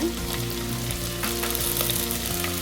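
Onions and curry leaves sauté in hot oil for Manathakkali kulambu, crackling and sizzling densely and steadily up close, with occasional brief pops and no talking.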